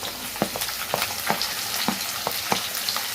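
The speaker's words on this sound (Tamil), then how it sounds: "வெங்காயம் கொஞ்சம் வதங்கட்டும்" Onions and green chilies sauté in a pan for a fish curry made without coconut, with a steady frying sizzle broken by evenly spaced scraping and clacking strokes of the spatula.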